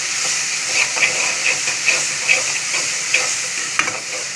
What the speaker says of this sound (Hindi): अब इसके अंदर जिंजर गार्लिक पेस्ट ऐड करेंगे, जिंजर गार्लिक अच्छी तरह से मिक्स करेंगे, 1-2 सेकेंड के लिए सोते करेंगे फिर।